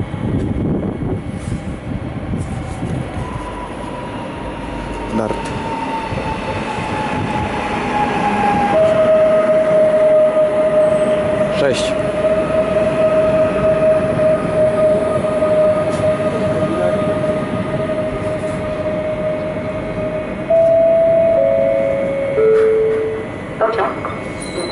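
An Intercity train pulls into Skierniewice station with a long rumble and squealing brake tones, joined by a station announcement over the platform speakers.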